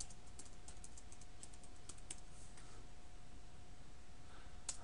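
Commands are typed on a computer keyboard into a Cisco command-line interface, a quiet run of quick key clicks over a faint steady hum, with no talk.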